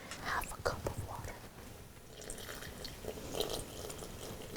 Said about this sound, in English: And now we're gonna pour the water. Half a cup of water.